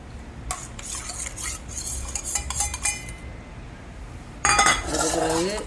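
Activated yeast is stirred into flour for a vegetable pizza dough, with a utensil scraping and clinking against a bowl in bursts and a louder, denser stretch of mixing near the end, close up with no talk.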